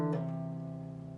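A single slow guitar note or chord from a guitar solo, plucked once then ringing out steadily with a pull-off, sustained and close with no talking.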